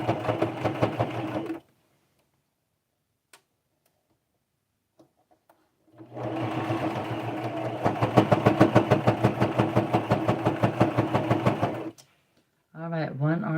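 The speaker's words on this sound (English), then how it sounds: "All right, one arm is being sewn onto the body." A domestic sewing machine stitches a homemade doll's arm onto its stuffed body in steady rapid bursts, running about two seconds, pausing, then a longer six-second run and a brief restart, close and clear.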